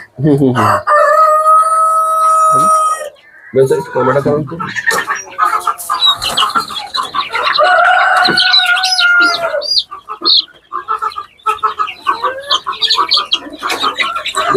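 Farm chickens cluck busily while a rooster crows loudly and nearby, the birds calling over one another for most of the stretch, with people's voices mixed in among them.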